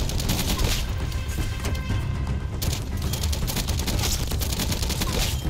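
UGR rifle gunfire in Call of Duty Black Ops, a dense continuous mix of loud shots, explosions and battle noise that runs through the whole stretch with no break.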